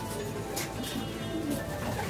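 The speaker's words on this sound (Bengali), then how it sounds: "এইসব ইম্পোর্ট করা কালেকশন করা কবুতর আছে এখানে সব" Imported pigeons, including Belgian males, cooing steadily in a loft, a soft continuous murmur of calls close by with no talk over it.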